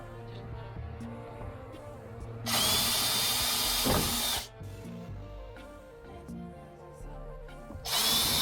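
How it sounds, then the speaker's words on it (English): Power drill driving small bolts into a lip on a 1999–2005 Mazda Miata, loud whirring bursts of about two seconds and a shorter one at the end, separated by quiet handling noises. "let's see if we can screw the little bolts in"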